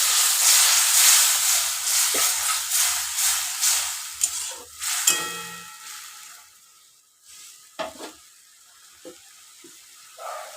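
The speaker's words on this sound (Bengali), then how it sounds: "এবার এর মধ্যে এই মশলা গুঁড়াটা দিয়ে দেবো, জল দিয়ে মিশিয়ে রেখেছিলাম।" Spice powder mixed with water hits a hot pan for a banana-stem curry, letting out a loud, broad sizzle that fades to a softer hiss, with a few stirring scrapes and clinks close by and no talking.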